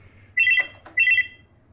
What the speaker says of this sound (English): the house phone suddenly rings once again